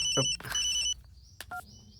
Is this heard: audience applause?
no